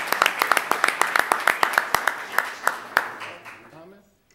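Audience applause at a college reverse transfer agreement event, a loose patter of close individual claps that thins out over about four seconds and fades to silence.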